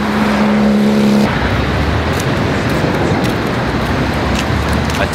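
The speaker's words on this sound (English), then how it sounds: "Took the bus back." A city bus drives along the Cancun hotel zone, its engine droning loudly up close with steady road rumble and rushing noise, a brief tonal whine fading out early on.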